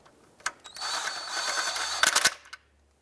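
A ratchet snugs down a coolant tube bracket nut on the engine of a 2001-2007 Ford Escape during a valve cover job. It gives a close, quick run of clicks lasting about two seconds, with no talking.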